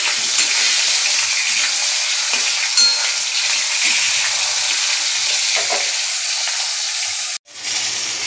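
Pointed gourd frying in a pan for a home-cooked dish, a steady loud sizzle running without pause, broken by a brief dropout near the end before the hiss returns.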